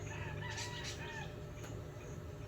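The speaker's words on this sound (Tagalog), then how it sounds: "Marami na namang ibon guys na nag-iingay." Chickens and a rooster call noisily in the morning during a thunderstorm, over steady background noise, with several overlapping crows and clucks at close to moderate distance.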